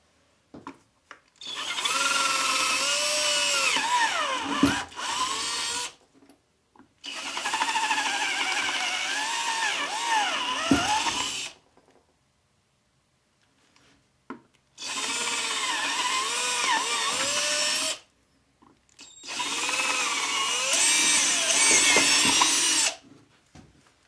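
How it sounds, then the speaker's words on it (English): A power drill runs in four separate bursts of several seconds each, drilling four mounting holes for a safe inside an RV, its pitch rising and dipping as it bites, with short quiet gaps between. "Now all we need to do is drill the 4 holes."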